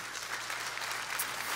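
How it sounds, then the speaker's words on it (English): An audience claps continuously, a dense, even patter of many hands at moderate volume without cheering. "Not everybody's clapping."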